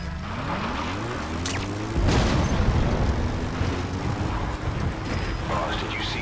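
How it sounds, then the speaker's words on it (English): A crashed vehicle explodes in the Metal Gear Solid V: The Phantom Pain video game: a sudden loud boom bursts in over a droning engine hum and game sound, then a rumbling, crackling aftermath lingers. "did you see that explosion?"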